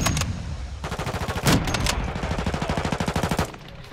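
Automatic gunfire from a Call of Duty: Modern Warfare 2 match, loud, rapid bursts of shots in a fast steady rhythm with a brief pause between volleys and a sharper blast in the middle.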